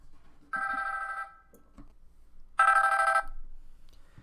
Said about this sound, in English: Oh, phone ringing again.